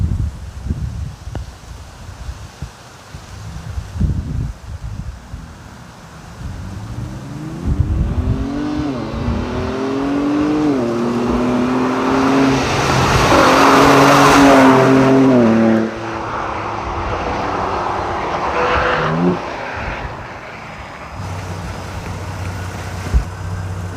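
A 2023 Ford Ranger Raptor pickup truck drives past outdoors, its engine note building from a distant rumble to a loud, rising pass around the middle and then fading away, with wind noise throughout.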